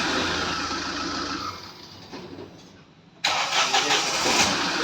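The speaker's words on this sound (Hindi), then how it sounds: "अभी देख सकते हैं कि हाफ सेल में गाड़ी स्टार्ट हो रही है" A diesel car engine, just repaired for a silencer and DPF fault, cranks and then catches, settling briefly before surging into a loud, close idle with no voices.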